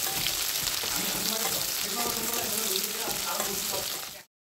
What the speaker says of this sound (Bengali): পেঁয়াজটাকে এরকম লাল করে ভেজে নিতে হবে